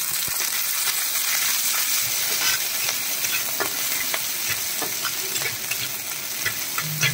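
Ginger, garlic and green chilies with curry leaves sauté in hot oil in a pan, a steady loud sizzle broken by repeated scrapes and clicks of a spoon stirring, with no voices.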